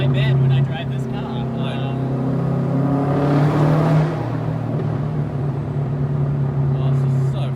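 A Subaru WRX STI Type RA rally replica driving on the road, its engine a steady low drone that swells as it pulls harder, with the driver talking over it.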